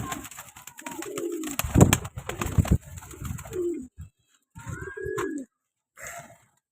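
Pigeons coo in soft, low, throaty bursts close by, with a few rustles and short bird calls between them and brief gaps of near silence.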